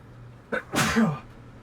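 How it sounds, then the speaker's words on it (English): A single person sneezes up close, a quick sharp intake followed by a loud explosive burst, then quiet. "I'm gonna sneeze."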